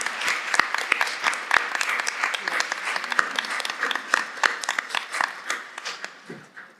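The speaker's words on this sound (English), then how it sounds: "give her a round of applause" Audience applause at a symposium gathering, a steady burst of many hands clapping in a room, sustained for several seconds and fading slightly at the end.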